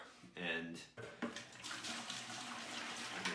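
Water pours from a container into a bucket to mix thin-set mortar for setting a new tile floor, a steady splashing gush that starts after a brief pause, close and continuous.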